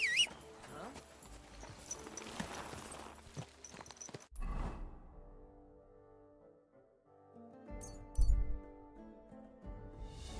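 Horse hooves in the video game Kingdom Come: Deliverance II clip-clop at a slow pace, then fade into quiet with a faint low hum and a brief thump near the end.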